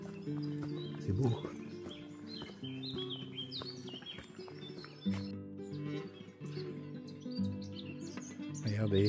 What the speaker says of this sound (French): Entendez les petits oiseaux.